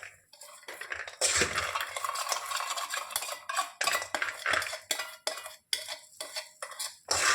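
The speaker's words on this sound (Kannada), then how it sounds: "ಫ್ರೈ ಮಾಡಬೇಕು." Peanuts being stirred in a hot pan for a homemade peanut snack, a metal spoon scraping and clattering against the pan in irregular, close strokes, with a faint sizzle and no talking.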